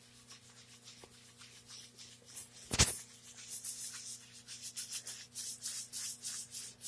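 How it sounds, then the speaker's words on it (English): A pad is scrubbed by hand back and forth over a VCT floor during wax build-up removal, making quiet, rhythmic rubbing strokes close by, with one sharp knock partway through. "I'm gonna come up with my pad again by hand and scrub about 20 times before moving my hand."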